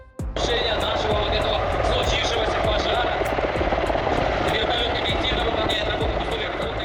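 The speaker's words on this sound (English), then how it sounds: "Kamov Ka-32, a Russian twin-rotor helicopter known for its stability in strong winds." Steady roar of a Kamov Ka-32 twin-rotor firefighting helicopter close by, rotors thudding rhythmically under a high engine whine, starting abruptly and holding loud throughout.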